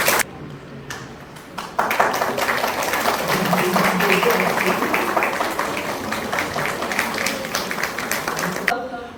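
Audience applause at a Basanta Utsav school event at Narayana School Newtown, a dense sustained clapping that swells and holds for several seconds before cutting off abruptly.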